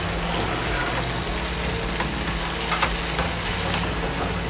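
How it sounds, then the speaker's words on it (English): Tuna seared in a pan with garlic butter gives a steady, close sizzle and crackle with occasional small pops, with no talking over it. "there's the tuna cooking. Seared tuna."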